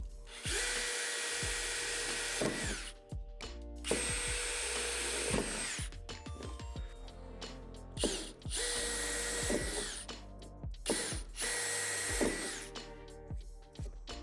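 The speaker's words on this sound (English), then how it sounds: "drill them out with the provided drill bit, only going through the first layer of metal" A power drill with the supplied bit bores through the first metal layer of a Lifetime 8 x 10 outdoor storage shed door, whining in repeated bursts of several seconds with brief pauses between holes, loud and close, no talk.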